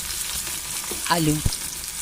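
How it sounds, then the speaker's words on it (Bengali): Green chilies and small potato pieces fry in hot oil with a continuous close sizzle, broken by a short scrape or two of a spoon against the pan. "কাঁচা লঙ্কাটা বেশ ভাজা ভাজা হয়েছে"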